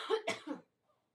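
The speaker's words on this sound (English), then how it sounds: "I knew I was going to cough if I didn't get something to drink." A short burst of coughing, two or three quick harsh coughs close up, then silence.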